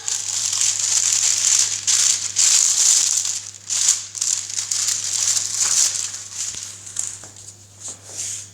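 Parchment paper is handled and laid onto a baking tray for a letter cake, producing close, repeated crinkling and rustling bursts that come in irregular waves and thin out toward the end.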